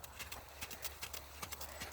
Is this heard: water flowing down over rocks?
no